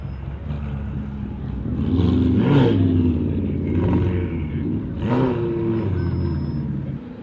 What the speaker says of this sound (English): a Ferrari with some kind of body kit on it